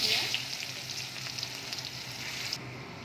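Chopped onion cooks in plenty of oil in a pan, giving a steady, fairly soft close-up sizzle with faint crackles throughout.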